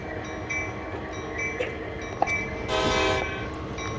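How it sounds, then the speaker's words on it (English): Rumbling train noise in Train Sim World 2 with a not-fully-released handbrake clanging against the wheel, giving faint metallic knocks and a brief louder grinding burst over a steady background. "it's just clanging on the wheel, and it's clanging and it's clanging against the wheel and it's making a weird noise"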